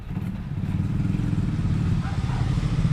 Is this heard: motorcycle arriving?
yes